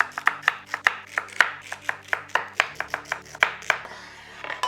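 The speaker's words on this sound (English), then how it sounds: "Diced celery sticks. Ooh, that's super satisfying." A knife dices celery sticks on a board in quick, crisp chops, about two per second, close and clear, with the chopping stopping near the end.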